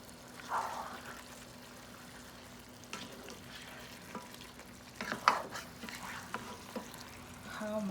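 Onion and tomato fry in a pan for chicken tikka masala, giving a faint, steady sizzle with occasional stirring scrapes and clinks close by.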